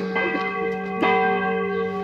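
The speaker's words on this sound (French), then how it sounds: "c'est le gong là, c'est l'heure de l'ouverture" A church bell rings at the opening of the trout fishing season, a sustained, resonant metallic tone with rich steady overtones, struck again about a second in, loud and alone.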